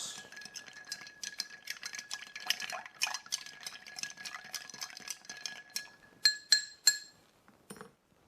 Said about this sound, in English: And then strain it in our glass.